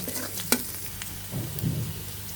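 Chopped vegetables fry and brown in a pan with nigella and radhuni seeds for a small river fish chorchori, giving a soft continuous sizzle broken by a sharp clink and gentle stirring scrapes, with no speech.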